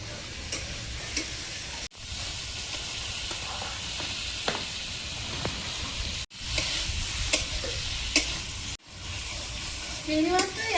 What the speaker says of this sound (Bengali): এবার চিংড়ি মাছটা দেবো।